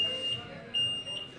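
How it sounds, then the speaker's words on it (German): A shrill electronic alarm tone, like a smoke detector, sounds steadily through a short stretch during a German rap battle interview in Hamburg, with a voice talking quietly underneath. "Alarm geht los bei dieser Frage"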